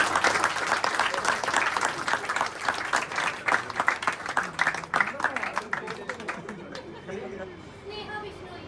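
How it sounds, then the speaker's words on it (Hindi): An audience claps loudly and steadily at a Ministry of Culture stage production event. Chatter and crowd murmur run through the applause, and it fades out near the end. "तालियां।"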